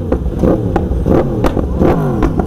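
Motorcycle with a loud exhaust revving hard in repeated bursts, close and dominant, each sharp rise of engine roar separated by brief drops, heard on a road ride.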